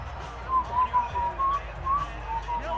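Sharp referee whistles in a Madden NFL 20 football game, a series of short, repeated shrill blasts over a steady low crowd murmur.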